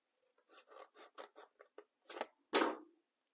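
Scissors snip designer series paper along score lines for a gift bag, a close run of about ten short crisp cuts followed by one longer, louder slice at the end.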